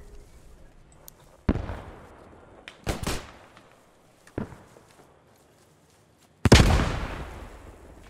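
Explosions in the WWII shooter Post Scriptum: several sharp, booming blasts spaced a second or more apart, each decaying into a rumbling tail, the last one loudest and longest, with quiet ambience between.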